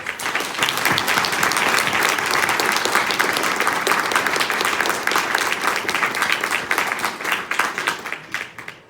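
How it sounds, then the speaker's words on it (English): Sustained applause from a large audience at a mayoral campaign kickoff in Knoxville, Tennessee, steady dense clapping throughout that tapers off slightly at the end. "let's give a round of applause for these devoted heroes."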